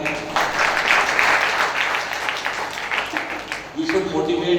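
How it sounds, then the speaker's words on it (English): An audience at a quiz competition claps to open the round, a fairly dense spell of applause that thins out near the end as a voice comes in. "please clap for the round starting."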